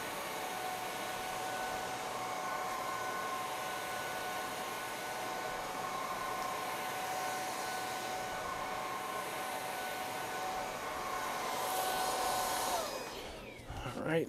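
Whall cordless vacuum cleaner running on medium power over carpet, a steady whining hum that stays even, then rises briefly and cuts off near the end, with no talk.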